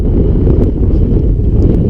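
Strong wind blowing across a microphone by the water during a spinning-rod fishing trip: a loud, dense, low buffeting rumble that never lets up, with no voices.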